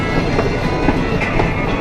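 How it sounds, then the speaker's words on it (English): The Rio Grande ride train at Paultons Park theme park rolls along close by, with a steady rumbling clatter of wheels on track that continues throughout, no talk. "Some footage of the Rio Grande train ride coming right up."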